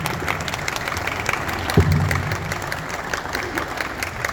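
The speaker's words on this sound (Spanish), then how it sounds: "fuerte el aplauso" An audience at a book presentation claps steadily in a dense, even wash of applause, with one brief low thump partway through.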